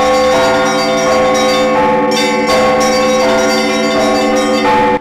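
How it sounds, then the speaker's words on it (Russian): Bells ringing in the newly built belfry of a Russian Orthodox Sretensky church, loud rich overlapping tones struck one after another, forming a continuous resonant peal with no voices. "на возведенной звоннице Сретенского храма стали слышны первые удары колокольных языков"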